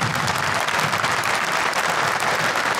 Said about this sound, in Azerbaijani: Baş sponsorumuzu alqışlayaq dostlar